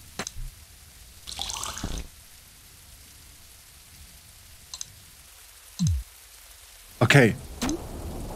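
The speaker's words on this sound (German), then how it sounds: "Den Regen einfangen, oder?" Rain in the video game There Is No Game falls as a soft, steady patter under a few short clicks and game sounds, while a person speaks briefly.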